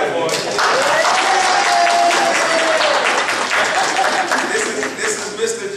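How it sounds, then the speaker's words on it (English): An audience at a school open house applauds loudly and continuously, a dense wash of clapping with cheering voices and shouts mixed in throughout. "Everybody clap for him."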